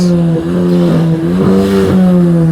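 Modified cars revving engines at the Trax car show, a loud steady idling drone with repeated quick revs swelling over it, close by and continuous.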